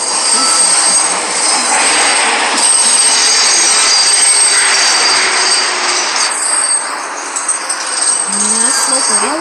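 Simulated R188 subway train on the uptown local 7 line to Flushing pulls into Woodside 61st Street station in the Hmmsim 2 game, a steady loud rumble of wheels on rail with squealing flanges and a rising motor whine near the end.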